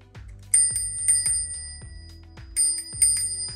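An electric bike's handlebar bicycle bell rung in several quick bright dings, in short bursts with brief pauses between them, close and clear with no talking.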